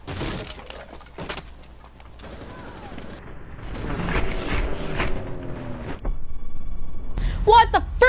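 Gunfire in Rainbow Six Siege: sharp shots and short bursts in the opening seconds, then a dense, shifting mix of game effects and a louder clatter near the end.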